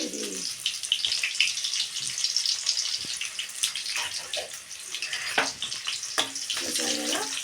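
Onions dropped into hot oil for a bitter gourd tamarind curry sizzle in a steady, bright hiss with small crackles, close up, and a faint voice comes in briefly at the start and end.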